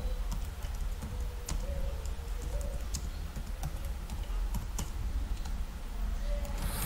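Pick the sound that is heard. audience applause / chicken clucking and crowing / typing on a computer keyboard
typing on a computer keyboard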